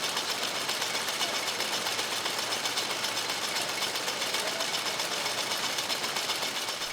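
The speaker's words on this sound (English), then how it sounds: "This is a schematic diagram of a jute drawing machine." A jute drawing machine runs with a dense, continuous mechanical whir, its rapid rhythmic clatter steady and close throughout, with no speech.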